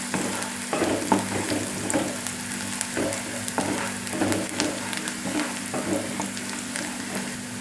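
Chopped onion fries in a pan with curry leaves, giving a steady, close crackling sizzle broken by occasional stirring scrapes, continuous throughout with no voices.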